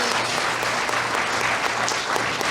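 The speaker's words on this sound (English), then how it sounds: "Let's give them one more round of applause" A church congregation applauds after a Christmas program by a gospel choir, sustained dense clapping that is loud and continuous, with a faint low musical tone lingering underneath.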